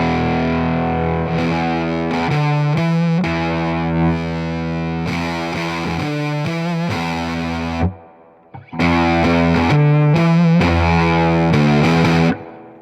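A heavily distorted electric guitar played through a Sibriex Distortion pedal plays thick, sustained chords and riffs, loud and saturated, with a brief break before the playing resumes.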